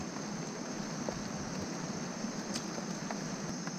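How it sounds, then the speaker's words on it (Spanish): Rain falls outside a shelter beside the Guayllabamba River, a soft, steady hiss with light patter heard from under cover at a low, even level. "Está lloviendo, pero miren que el agua no le entra acá."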